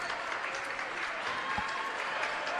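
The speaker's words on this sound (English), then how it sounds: "The fans start clapping." Basketball fans clap through a boys high school game in Greenwood, Indiana, a steady, dense wash of applause filling the gym without a break, with a single low thump near the middle.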